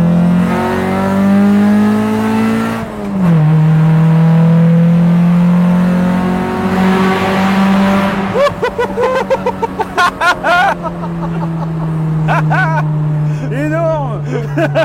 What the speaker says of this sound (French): l'échappement qui fait plaisir